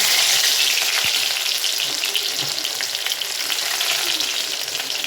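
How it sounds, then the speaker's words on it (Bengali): Chopped garlic sizzles loudly and steadily in hot oil, a close, dense crackle that continues unbroken from start to finish with no voices. "তেল গরম হয়ে গেছে, এখন রসুন কুচি দিয়ে দিব"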